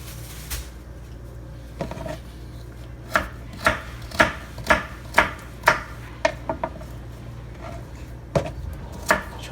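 A knife chops vegetables on a board for an Ital Jamaican soup, with about a dozen crisp, close thuds in a loose, steady rhythm and a few softer handling noises, no talking.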